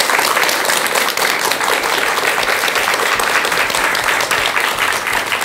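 Dense, steady applause from an audience thanking a speaker after a talk, loud and continuous throughout without a break.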